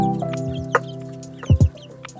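Rhode Island Red hens cluck softly in a backyard flock, with scattered low calls and a couple of sharper close bursts over a faint steady background hum.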